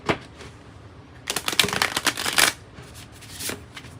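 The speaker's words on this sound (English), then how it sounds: "I know I do a lot of shuffling." Tarot oracle cards being shuffled by hand, a dense riffling flutter in bursts with a brief softer shuffle before and after, close and crisp, with no talking.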